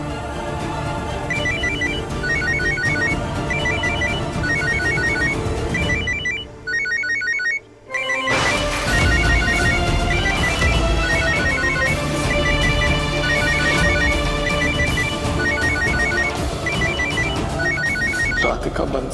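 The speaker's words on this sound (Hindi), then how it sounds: "राधिका को फोन कर लेता हूँ।" A phone ringtone plays loudly and repeatedly in a bright melodic pattern, pausing briefly before resuming and continuing without talk.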